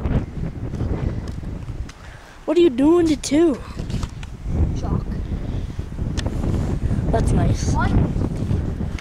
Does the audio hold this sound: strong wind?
yes